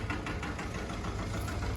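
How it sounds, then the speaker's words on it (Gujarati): A low, steady tractor engine rumble idling continuously with a faint rhythmic knock, close by, with no voices. "આપણો નાનો ભાઈ અત્યારે ટ્રેક્ટર બહાર કાઢે છે"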